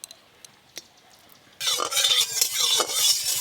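A spoonful of ghee heating in a pan for semolina halwa: a few light clinks, then a sudden loud, steady sizzle that carries on close up, with no talk.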